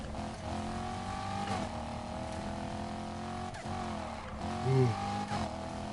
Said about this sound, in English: Plus that V8 sounds great.